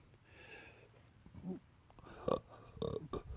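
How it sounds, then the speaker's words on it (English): A man lets out a belch, brief guttural bursts near the end, close and fairly quiet, with muffled vocal sounds before it. "Oh, please excuse me. I seldom belch ever in public on the scope."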